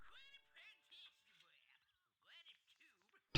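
A cat meowing in the video game The Sims 2, a series of high, wavering, slightly chirpy mews with short pauses, fairly close and heard alone.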